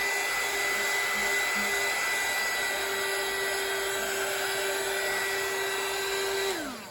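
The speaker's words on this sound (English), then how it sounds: "And then I'm gonna take my dryer." A hair dryer drying acrylic paint on a laser-engraved coaster blows with a steady high-pitched whine and rushing air, loud and constant, cutting off abruptly near the end.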